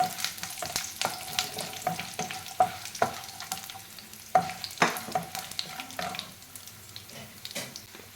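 Dried red chillies and a sprig of curry leaves fry in hot oil for puliyogare, a steady close sizzle broken by sharp clinks and scrapes of stirring at irregular intervals.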